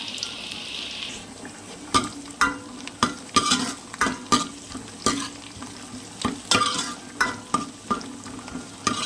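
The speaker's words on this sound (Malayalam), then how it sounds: "ഇതിലേക്ക് ചുമന്നുള്ളി അരിഞ്ഞതാണ് ചേർത്ത് കൊടുത്തേക്കുന്നത്." Chopped shallots sizzle in a hot pan, with repeated scraping stirs of a spatula at a regular rhythm over a continuous frying hiss, close and clear.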